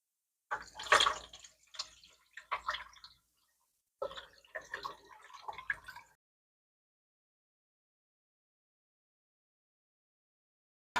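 Splashing and sloshing of water with rice grains swirled by hand in a bowl, several close bursts over a few seconds, then quiet.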